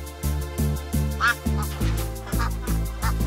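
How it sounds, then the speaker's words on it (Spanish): A goose honks loudly and close by, a steady run of about eight hoarse, evenly spaced honks with no talking. "vamos a traer los gansos para ver cómo se comportan"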